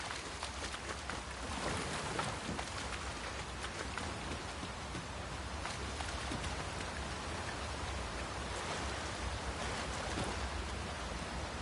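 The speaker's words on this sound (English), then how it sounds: "It is really coming down. We can push through a bit of rain, surely?" Heavy rain in the Dragon's Dogma 2 video game, a dense continuous hiss of falling water with gusty surges, steady and enveloping with no voices.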